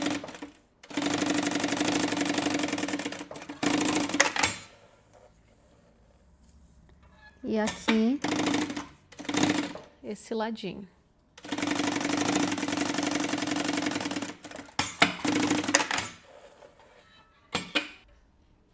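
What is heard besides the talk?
sewing machine stitching a zipper onto a bag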